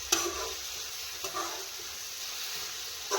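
A pan of green onion curry sizzles steadily as it is stirred, with a few sharp scrapes of the spoon at the start, in the middle and at the end.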